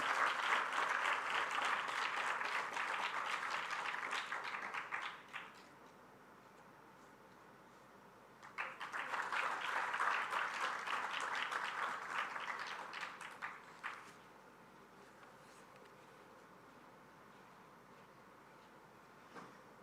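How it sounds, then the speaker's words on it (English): Audience applause at a memorial oration welcoming a chief guest, coming in two bursts of steady clapping with a quiet gap between them. "Please give a huge round of applause for our chief guest."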